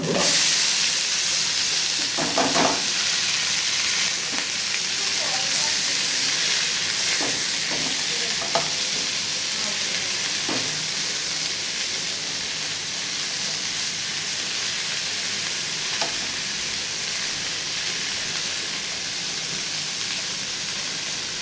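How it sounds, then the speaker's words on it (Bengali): Onions fry in a pan with a steady, close sizzle and hiss, broken by a few sharp clinks and scrapes of stirring early on. The sizzle then settles into an even, continuous frying sound with no talking. "আমার পেঁয়াজটা ভাজা হতে থাক"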